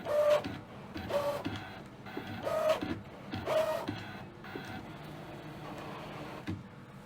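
An electronic cutting machine slicing fabric on a mat for a Kimberbell pillow project, its carriage motor whirring in short repeated bursts with small beeps, close and moderate, fading to a steady quieter hum.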